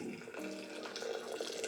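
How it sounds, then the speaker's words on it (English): A steady stream of steaming hot water pours into a French press, a continuous gurgling splash with rising pitch as it fills, close by and without voices. "the next step is to add the water into here"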